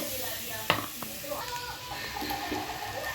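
Garlic paste goes into potatoes and onions already frying in a pan, making a soft sizzle with a sharp clack of a spoon and scraping stirs.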